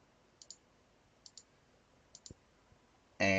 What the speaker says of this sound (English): we just click on the sine button,